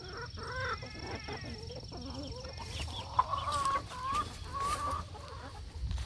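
Chickens clucking in a backyard coop holding about fifteen birds, with steady overlapping clucks and short calls through the clip over a low background hum.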